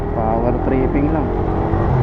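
A Suzuki Raider motorcycle engine runs steadily close by, giving a loud, continuous rumble with a slight rise in pitch partway through.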